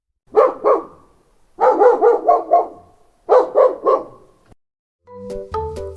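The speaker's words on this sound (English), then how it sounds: "It's a dog." A dog barks in three close, loud bursts of several sharp barks each, separated by short silences, followed by a brief musical jingle.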